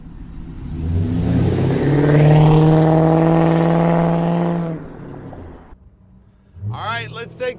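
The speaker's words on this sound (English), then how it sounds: "Listen to that LS1 purr." A 1955 GMC Suburban's LS1 V8 engine revs up loud and close with a deep rising drone, holds, then fades; a brief voice follows at the end.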